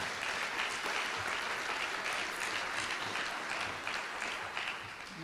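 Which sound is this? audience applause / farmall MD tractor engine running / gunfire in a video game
audience applause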